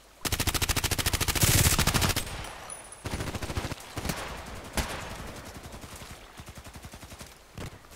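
Gunfire in the online shooter Contract Wars during a sniper match on a lighthouse map: loud rapid bursts of repeated shots, then a pause and a few single cracks spaced seconds apart.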